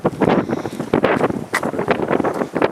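Gusty wind blowing outdoors at a lake during a carp fishing event, buffeting the microphone in loud, uneven bursts and rumbles with no talking.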